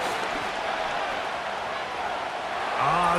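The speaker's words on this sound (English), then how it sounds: "This crowd, they're trying to force a false start. What noise before third and inches." A stadium crowd roars in Madden 25 on PS5 as the Colts play the Titans, a dense, continuous wash of noise that swells slightly near the end.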